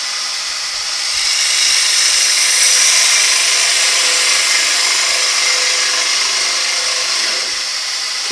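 Turning tool cutting a wooden bowl on a lathe, a steady hissing scrape of the cut that swells in after a second and holds evenly, fairly close, with no voices.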